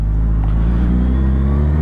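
A Suzuki Hayabusa motorcycle engine drones loud and close on a road, a steady deep rumble with a rich low hum that holds evenly throughout, with no voices.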